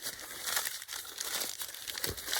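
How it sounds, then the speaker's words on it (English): Paper being crumpled and crinkled by hand to make handmade collage paper, a close, continuous rustling with sharp crackles and no speech. "and crumple, undo it, and then you just keep crumpling"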